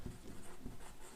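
Marker or chalk scratching across a board while a browser search bar is drawn, a faint continuous scraping with soft strokes, close but quiet, with no voice over it.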